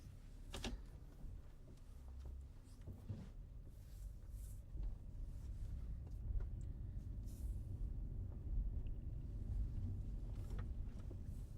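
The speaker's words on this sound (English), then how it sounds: "Car ASMR" Faint, steady low road rumble inside a moving car on a country road, with occasional soft knocks and bumps and no talking.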